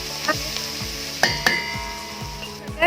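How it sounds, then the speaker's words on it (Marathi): Coriander with turmeric and coriander powder sizzles steadily in hot oil while a spoon stirs, its soft scraping strokes recurring and a couple of brief clinks rising above the frying. "हे पुन्हा छान आपल्याला असं फ्राय करून घ्यायचं आहे तेलावरती एक ते दोन मिनिट"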